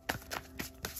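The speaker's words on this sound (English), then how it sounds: "Three more shuffles." Tarot cards are shuffled in quick bursts, four soft riffling flicks in about a second, close and fairly quiet.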